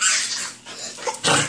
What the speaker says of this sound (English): Watch out for that dog.